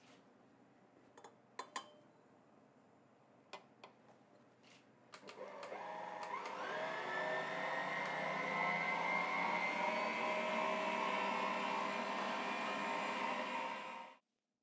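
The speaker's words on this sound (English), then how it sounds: "pop the egg whites sugar together in a bowl and leave them to whisk up until they're nice and thick" Faint clinks and taps of a bowl being set up come first, then an electric mixer whirs into a steady, high-pitched drone for several seconds while whisking egg whites and sugar, before cutting off abruptly.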